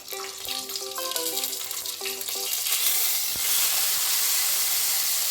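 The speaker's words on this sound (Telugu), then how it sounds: "అవి కొంచెం వేగిన తర్వాత వాళ్ళు కొంచెం ఫ్రై అవ్వాలి కలుపుతూ ఉండండి లేకపోతే మాడిపోతాయి" Cumin seeds and urad dal frying in hot oil in a pan, a steady loud sizzle and hiss that builds over a few seconds, with music playing over the start.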